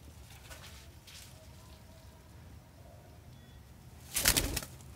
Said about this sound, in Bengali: বাজিজ এবং নতুন যে ককটেলের জোড়া এবং এই যে দেখতে পাচ্ছেন ইন্ডিয়ান রিং নেকের জোড়া